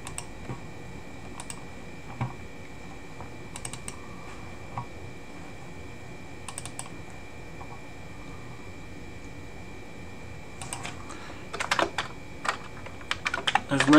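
Someone types on a Commodore 64 keyboard fitted with a Turbo Chameleon running an Amiga core. Sparse, faint key clicks give way to a quicker, louder burst of typing near the end.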